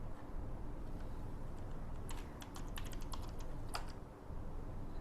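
Keys clatter on a computer keyboard in a short burst of quick taps over steady background hiss, near and clear, with no one speaking.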